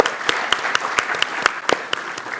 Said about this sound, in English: I want us to give a round of applause to MoneyPoint